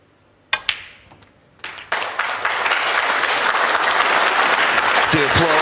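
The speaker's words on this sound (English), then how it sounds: "the applause tells you." A few scattered claps break out in a quiet snooker arena at a UK Championship match and quickly swell into warm, sustained applause from the audience, with a commentator's voice briefly heard near the end.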